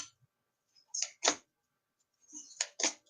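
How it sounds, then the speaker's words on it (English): Tarot cards shuffled by hand in a few short crisp bursts of riffling and flicking, near and fairly quiet, with brief pauses between them and no talking. "Shuffling, shuffling, shuffling, shuffling, shuffling."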